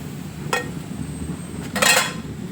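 A pot lid clatters on a pot of fish curry with bilimbi as it is lifted off the boiling masala, making two brief metallic clinks, the second louder and longer, over a low steady simmer.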